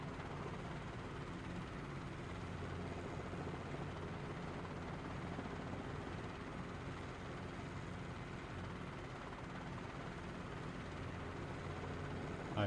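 A steady, droning helicopter engine from Microsoft Flight Simulator 2020, played in VR, runs continuously at an even level with no talking over it.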